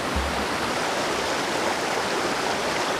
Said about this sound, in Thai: น้ำตกที่นี่สวยมากทุกคน